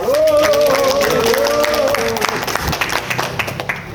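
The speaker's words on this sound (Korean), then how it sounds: "박수 부탁드립니다." Outdoor applause at a labor and civic groups' press conference on a rainy day, a short burst of clapping that follows a sustained voiced tone and tapers into scattered claps.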